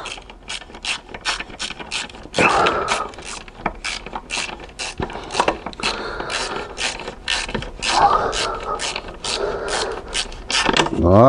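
Ratchet wrench tightening a bolt during an alternator replacement on a Chrysler 300C CRD 3.0, rapid rhythmic clicking in bursts with short pauses, close and crisp, with no talking.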